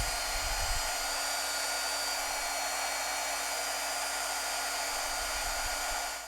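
A heat tool blows a steady, loud, continuous airy roar with a low motor hum, melting embossing powder around the edge of a handmade card, running almost unbroken until it tapers at the end.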